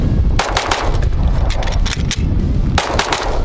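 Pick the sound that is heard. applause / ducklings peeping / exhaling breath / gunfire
gunfire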